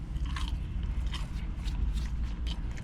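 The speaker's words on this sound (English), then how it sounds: "I like crunchy chips" Someone bites into and chews thick McDonald's fries, crisp crunches repeating close to the mic over a low steady background hum.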